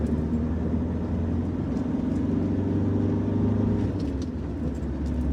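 A car with an engine fault pulls hard in fifth gear from about 40 mph, its steady, droning engine note holding loud and close the whole way.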